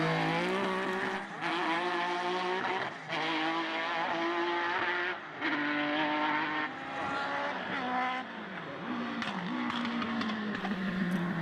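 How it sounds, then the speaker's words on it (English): Formula BOSS race cars at Mondello circuit, including Peter Dwyer's Lola, screaming past with loud, sustained high-revving engine notes, rising and falling through gear changes with brief dips, continuous throughout. "Peter Dwyer's Lola also sounding great."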